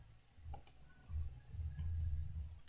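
Two quick, sharp computer mouse clicks close together near the start, faint and close, followed by low background hum with no talking.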